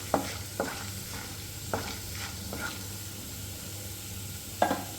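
Crushed garlic and seasoning seeds frying in hot oil in a pan, with a soft continuous sizzle punctuated by several sharp scraping stirs of a spoon spaced irregularly throughout.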